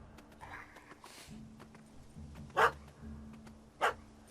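A dog barks twice in a Witcher 3 game scene, two sharp, separate barks standing out over low ambient game sound.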